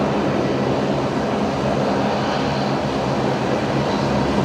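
A Link Airways aircraft taxis in to Bay 50 at Brisbane Airport, its engines a loud, steady, close roar that holds unbroken throughout, no voices.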